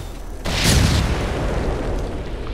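A grenade goes off during an outdoor airsoft game, one sudden loud boom with a low rumbling tail that lingers for about two seconds over the background noise.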